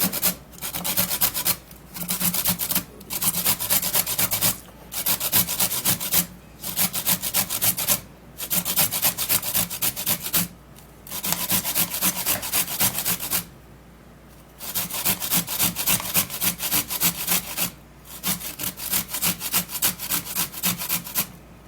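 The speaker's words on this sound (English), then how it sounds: "I'm just going to be grating it to extract the juice" Carrots scraped against a grater in repeated rasping strokes, steady bursts of rough scratching broken by short pauses, close and alone.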